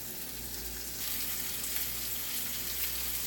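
Chicken browns in a hot pan with a steady, soft sizzle and spatter, fairly quiet and close, no voices.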